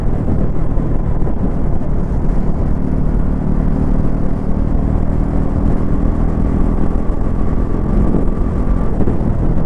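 A 2026 Bajaj Pulsar NS400Z, 349cc, cruising in sixth gear at higher speed, its engine a loud, steady, continuous drone mixed with constant wind and road rumble.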